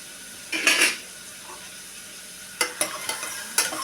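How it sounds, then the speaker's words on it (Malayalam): Kanji with slit green chillies stirred in a pot, a few short scraping strokes of a spoon near the start, then a quick run of clinking stirs after a quiet pause. "ഇതൊന്നും പാടെ നിളക്കി കൊടുക്കുകയാണ്"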